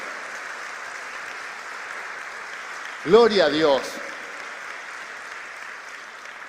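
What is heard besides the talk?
church congregation applause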